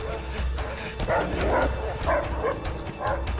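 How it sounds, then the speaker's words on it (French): Dogs in the video game A Way Out bark and yip repeatedly during a chase, a quick run of short, fairly close barks over steady game sound with faint voices underneath. "Fucking dogs!"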